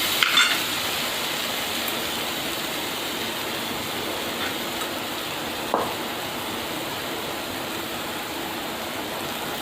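Green chilli paste sautés in a pan with a steady, soft, hissing sizzle, broken by a few light utensil clinks near the start and midway.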